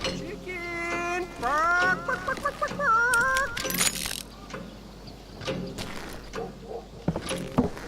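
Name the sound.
chicken clucking in the video game Call of Juarez Gunslinger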